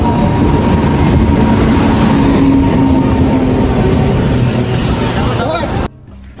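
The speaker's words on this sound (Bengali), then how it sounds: "এই যে আমাদের ট্রেন ঢুকে গেল" A delayed passenger train rolls into a station platform on a journey toward Varanasi, its steady loud rumble and wheel noise filling the air under crowd chatter and voices before cutting off abruptly near the end.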